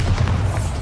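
A Bombarda explosion spell in the video game Hogwarts Legacy lands as a loud, deep, rumbling boom that fills the whole short moment.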